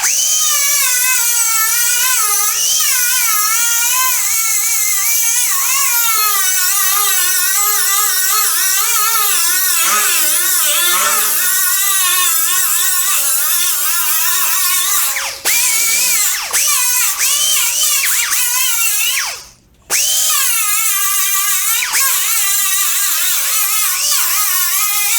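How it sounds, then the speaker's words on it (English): An angle grinder cuts into the metal of a 1966 Ford Mustang fastback fender, giving a loud, high, continuous whine that wavers as the load changes and briefly cuts out near the end. "let me just take off the fender and I'll do that with the angle grinder"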